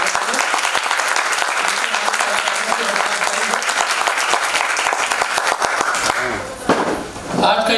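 Loud, dense applause from a theatre audience honouring two people before a stage play, clapping steadily for about six seconds, then tapering off with a brief trailing burst.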